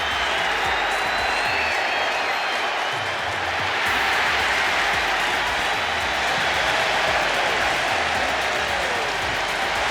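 A video-game wrestling arena crowd for WWE 2K25 applauds and cheers continuously through a women's entrance, a dense, steady roar of clapping and crowd noise with a commentator's voice faintly under it.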